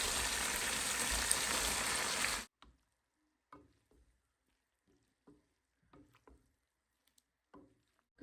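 Malabar spinach hitting a pan of braised fish gives a loud, dense frying sizzle for about two seconds, then cuts off to near silence with only scattered faint clicks and light clatter.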